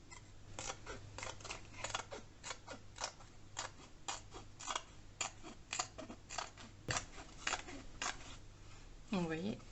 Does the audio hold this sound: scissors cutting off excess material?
yes